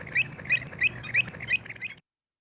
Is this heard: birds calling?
yes